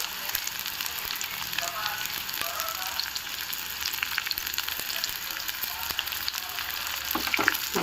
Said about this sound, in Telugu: ఆనియన్ వేసుకుందాము.